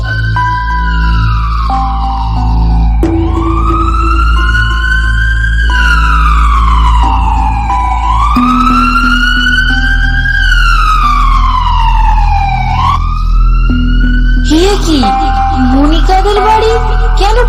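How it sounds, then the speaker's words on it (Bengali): A police car siren wails loud and close, its pitch sweeping up and down in long, repeated cycles, then breaking into a faster warble near the end. "পুলিশের গাড়ি"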